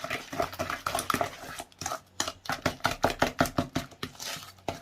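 Cake batter for an apple syrup loaf stirred by hand with a wooden spoon in a bowl, giving a run of close, evenly paced knocking and scraping strokes that quicken into a steady rhythm, with no talking.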